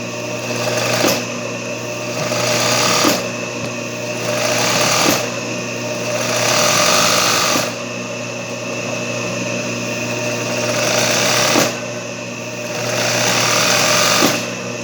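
A sewing machine runs fast zigzag stitches over cord to finish Richelieu-style cushion work, with loud, steady bursts of mechanical whirring broken by short pauses, close and alone, with no talking.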